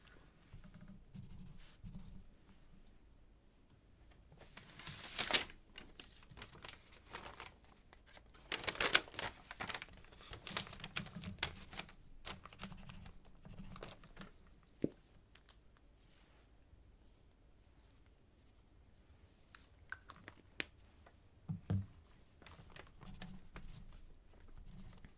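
Soft pen or pencil scratching on paper in a quiet ASMR receptionist roleplay, faint intermittent strokes with occasional crinkles and taps, close and gentle with no talking.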